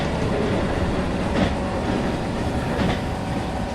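Japanese HR1500 Series EMU train running on the Sankai Main Line in a train simulator game in winter, a loud steady rolling rumble with faint clickety-clack, close and continuous with no talking.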